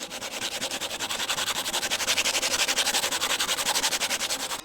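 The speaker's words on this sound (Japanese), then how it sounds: "表面が粗い木材をペイントの下準備としてサンドペーパーをかけていくときは、最初に少ない数字の粒子が粗いサンドペーパーを使って" Coarse, low-grit sandpaper is rubbed by hand over rough-surfaced wood to prepare it for paint. Quick, even back-and-forth strokes rasp close up in a steady rhythm throughout.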